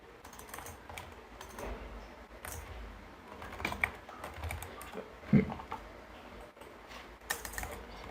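Someone types the administrator login on a computer keyboard while working with Windows Server and Active Directory, giving light, close key clicks in irregular bursts with short pauses, plus a heavier tap near the middle.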